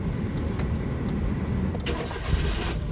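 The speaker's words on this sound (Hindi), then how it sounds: "अभी पूरा क्लच दबा कर कार को स्टार्ट करिए" Car engine started with the clutch fully pressed during a first driving lesson: steady loud cranking and engine rumble through the short span, with faint clicks and no talking, recorded close inside the car.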